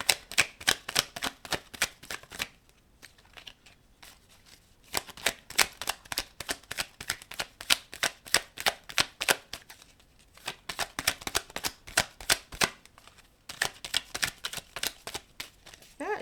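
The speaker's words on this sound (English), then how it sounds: "it's so hard to shuffle these cards or let them like fly out" A small deck of tarot-style cards shuffled repeatedly up close, rapid crisp flicking bursts in several rounds with brief pauses between them, no talking.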